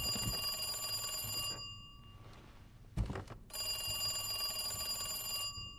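Telephone in Resident Evil 2 Remake rings in two loud, close, rattling bell bursts with a gap of quieter ambience between them, broken by a single thud.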